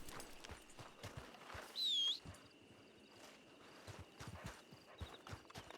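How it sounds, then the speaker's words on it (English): Horses clip-clopping in a video game, a steady patter of faint hoofbeats with a brief loud burst midway, no talking. "there's too many horses. I'm gonna get kicked."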